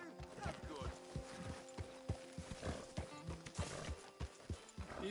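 Horse sounds from the video game Red Dead Redemption 2: hooves clip-clop steadily and a horse snorts and whinnies, close and fairly loud, over low rumbling game ambience.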